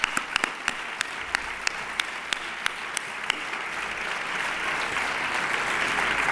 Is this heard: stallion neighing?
no